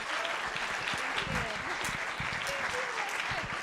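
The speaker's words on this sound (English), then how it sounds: "Let's give her another applause" Audience applause after a lecture, a full, continuous patter of many hands clapping at close range, with a few brief voices faintly heard beneath it.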